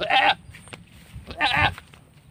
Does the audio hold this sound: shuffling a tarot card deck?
no